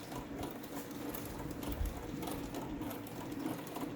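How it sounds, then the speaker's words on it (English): Sewing machine stitching down a quilt block runs steadily and quietly for a few seconds, a fast, even mechanical whir with rapid needle ticking and no voices. "we're going to sew that down"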